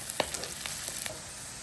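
Onions sautéing in a pan for Sri Lankan Tamil-style crab curry, a quiet sizzle with a few light stirring taps and scrapes early on, then a soft steady fry.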